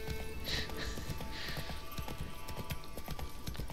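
Horse hooves clip-clopping at a steady gallop while riding in The Witcher 3: Blood and Wine, a continuous rhythmic patter under game ambience with a brief whinny-like tone early on.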